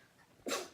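A single sharp sneeze bursts out after a quiet stretch, loud and close, then trails off briefly.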